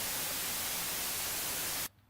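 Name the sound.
white noise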